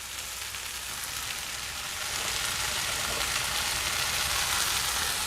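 Steady, loud sizzling and crackling of chicken stir-frying in black bean sauce in a hot pan over high heat, growing slightly more intense partway through, with no voices.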